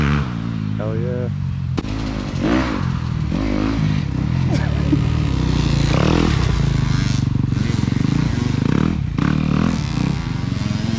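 Pit bike engine revving hard while riding through mud, loud and close for the whole stretch, with shifting pitch and clattering, and voices talking over it.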